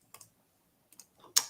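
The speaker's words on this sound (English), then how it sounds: "I couldn't hear myself think over your loud ass typing" Short bursts of keyboard key clicks, a couple of quick taps, a pause, then a few more, ending in a sharper louder clack; quiet and close.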